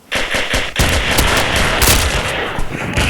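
Rapid automatic gunfire from a weapon in the Kuboom shooter game, with several close, loud bursts of shots in quick succession and no talking.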